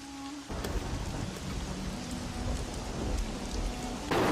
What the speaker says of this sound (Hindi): बारिश का मौसम शुरू हो चुका था।